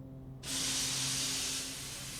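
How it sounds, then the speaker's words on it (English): Steam locomotive brakes applied on arrival at a dockside release a sudden, loud, sustained hiss that holds steady for over a second before easing slightly, with a faint low hum beneath. "Thomas's brakes sound like this."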